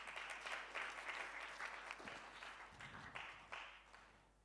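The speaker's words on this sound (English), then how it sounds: "give yourselves a round of applause" An audience at a research workshop applauds, a steady wash of many hands clapping at moderate distance that holds evenly for several seconds, fairly soft overall.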